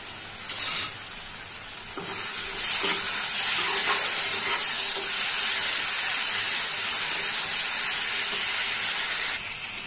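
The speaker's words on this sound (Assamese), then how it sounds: "মই এতিয়া ইয়াতে ভাজি থোৱা আলুখিনি দি দিম" Fried potatoes tipped into a pan of frying masala for an Assamese prawn curry, setting off a loud, steady sizzle and hiss that swells after a soft thump and holds close and continuous.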